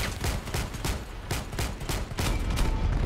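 Heavy, rapid gunfire in the Crossout video game, attributed to shotguns: booming shots in a dense, continuous volley, loud and close with no pauses.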